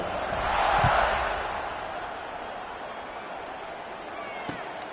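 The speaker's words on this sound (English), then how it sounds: "this crowd is buzzing after that last score" A football stadium crowd buzzes steadily with a broad, distant roar that swells briefly and then settles into a constant murmur.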